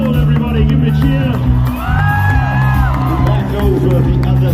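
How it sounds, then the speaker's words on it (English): A festival crowd cheers, whoops and shouts for guitarist Mike Stoll at a summer fest, a loud, continuous roar of many voices with a few prominent yells rising above it. "everybody, give him a cheer."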